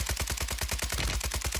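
Rapid, evenly spaced SMG fire in Call of Duty: Warzone 3, a fast continuous burst of about fifteen close, punchy shots.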